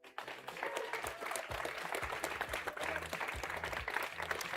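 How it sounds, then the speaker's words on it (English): A crowd at an esports event applauds for a team, a dense, steady patter of clapping that carries on throughout at a moderate distance. "Please give them one more time a cheer for the entire team."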